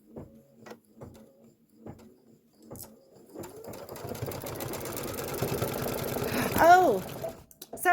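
An embroidery machine stitches a quilt border in a rapid, steady mechanical chatter that builds after a few soft clicks and taps, close by and fairly quiet, ending with a brief rise and stop.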